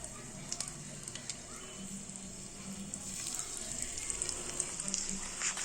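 Eggs fry in hot oil in a pan, making a steady, soft sizzling hiss that grows slightly denser over a few seconds, with faint crackles and no other sounds nearby.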